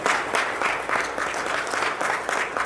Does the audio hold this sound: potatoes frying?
no